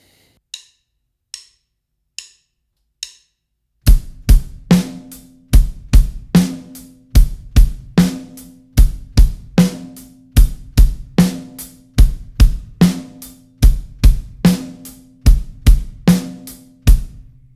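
A rock drum kit beats out a groove of kick, kick, snare: four soft taps first, then a loud steady pattern of booming kicks and sharp snare hits repeating evenly, close and alone.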